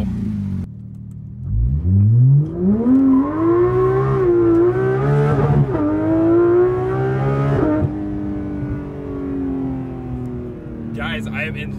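A Porsche GT3 RS engine revs hard toward its 9,000 rpm redline, rising in pitch across several gears with brief shift breaks, loud and close from inside the cabin, then settling into a steady cruise drone.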